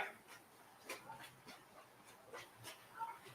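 Faint, quiet dog noises indoors, a few soft short yips and whimpers with light panting scattered across the moment, distant and low in level.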